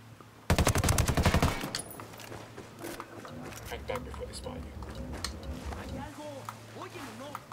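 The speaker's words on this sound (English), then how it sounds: "I'm surprised they haven't heard my gun going off at the moment" A loud, rapid burst of automatic fire from the player's rifle in Ghost Recon Wildlands rattles for about a second, then gives way to quieter ambience with someone talking.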